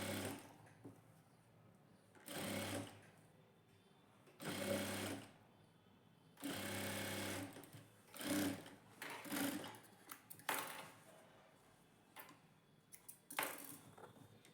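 A sewing machine stitches a seam on a princess-cut blouse in several short bursts separated by pauses, each run a close, even whir, with light clicks and handling noises in between.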